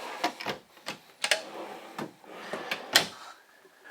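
Soft-close pull-out kitchen drawers in a 2022 Forest River Berkshire 34B Class A diesel motorhome, producing a string of about ten short clacks and sliding thumps in uneven rhythm, close and fairly loud, with no talking.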